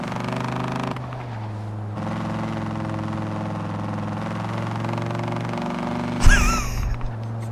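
A Dodge Viper engine in the racing game Forza Horizon 4 burbles with a deep, steady low drone, shifting pitch partway through, while excited voices talk over it and a brief loud burst cuts in near the end.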